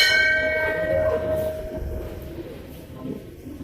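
A tall bell rings once at a Hindu temple, a bright metallic strike whose ringing tones decay slowly over several seconds amid faint background noise.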